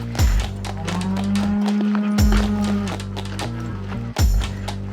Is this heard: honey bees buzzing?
no